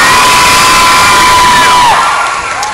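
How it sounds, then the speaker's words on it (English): A large crowd at the Clothes Show at the NEC's LG Arena claps and cheers loudly, with whoops and high shouts, the roar holding strong before easing slightly near the end. "give a big round of applause"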